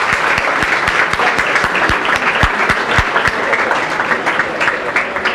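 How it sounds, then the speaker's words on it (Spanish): An audience at a talk on the medicines market and drug policy breaks into loud, sustained applause, with a few sharp individual claps standing out close by in the dense clapping. "quiero pedirles un aplauso para ellos que nos están acompañando."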